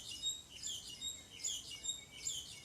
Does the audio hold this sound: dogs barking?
no